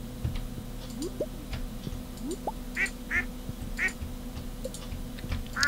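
Ducks quack in the Stardew Valley farming game, several short clear calls at intervals over a steady low hum of game music and ambience.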